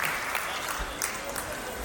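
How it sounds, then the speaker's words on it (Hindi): Dense, continuous applause from an audience at a Hindi poetry gathering in a Delhi hall, a steady wash of many hands clapping at once, fairly faint and distant with a few louder accents. "मैं चाहता हूँ एक बार जरा जोरदार तालियां बजाइए।"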